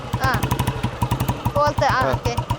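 A Royal Enfield motorcycle idles with its loud, even thump close by, and its engine note lifts briefly as the rider clicks through the gears. Someone talks over the engine, explaining how to shift.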